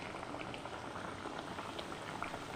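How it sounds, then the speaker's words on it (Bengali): Hilsa fish steams in a pot on a home kitchen stove, giving a steady close bubbling boil with soft pops and crackles throughout, no voices over it. "আর এখানে ইলিশ মাছ ভাপাচ্ছি"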